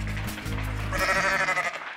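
A sheep on a remote farm gives one long, wavering bleat, close and fairly clear over a low background rumble.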